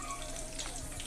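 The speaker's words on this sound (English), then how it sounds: "We just dropped some fries in some hot oil." Frozen fries frying in hot oil, a brief, steady crackling sizzle heard close up.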